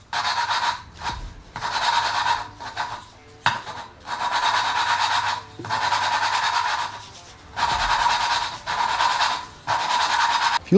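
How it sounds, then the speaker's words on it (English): Valve lapping on a VG30 engine head: a close, gritty rubbing scrape in repeated back-and-forth strokes of about a second each, broken by short pauses. "If you listen really closely as I'm grinding the valve, you can actually hear it go from a really gritty texture to a really smooth sound"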